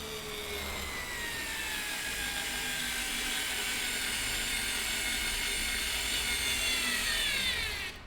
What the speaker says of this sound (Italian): riesce ad avvitare un cacciavite elettronico